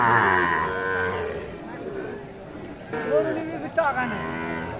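Sahiwal cattle moo in drawn-out, low calls amid a busy cattle market crowd, with people talking close by throughout.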